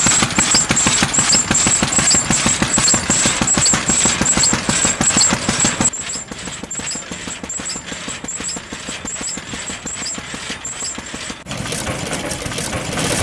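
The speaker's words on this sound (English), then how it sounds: "this engine, there's a pump on the back" An old engine with a pump on the back runs at a vintage machinery display in Warracknabeal, Victoria, with a fast, steady, close chugging beat that softens partway through before picking up again.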